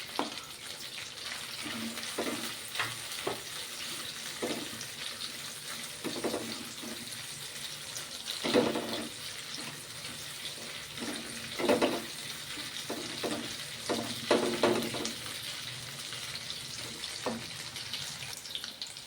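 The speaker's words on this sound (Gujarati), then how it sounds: "ત્યારબાદ કેપ્સિકમ એડ કરશું." Capsicum stir-fried for noodles in a hot pan, a soft sizzle running throughout with intermittent scraping and tossing strokes from stirring, close and fairly quiet.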